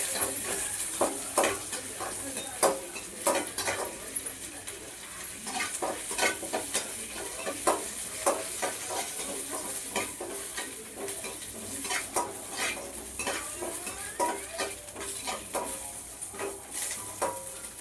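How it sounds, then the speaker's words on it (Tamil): Curry leaves sizzle and crackle in sesame oil in a pan, the frying hiss running throughout under sharp, irregular clinks and scrapes of a spoon stirring against the metal, fairly quiet and close. "இந்த கருவேப்பிலையை பொரிச்சு எடுத்துக்கணும்."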